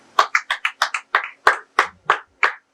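About a dozen crisp, evenly spaced claps come from close by at a steady rhythm during a reporters' and editors' training session, with no voices over them.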